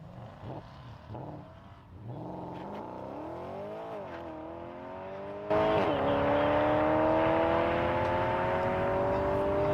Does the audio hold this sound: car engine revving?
yes